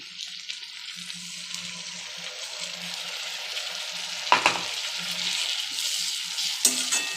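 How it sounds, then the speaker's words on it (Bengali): Garlic frying in hot oil in a pan gives a steady soft sizzle with a few brief stirring clinks, close and fairly quiet, with no talking. "রসুনটা একটু ভাজা হবে অল্প ভাজবো বেশি ভাজবো"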